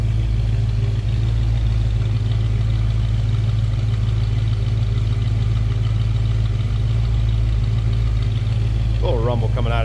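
A 1967 Ford Mustang coupe's 289 V8 with an automatic idles steadily nearby, a constant low rumble throughout, with a brief voice near the end.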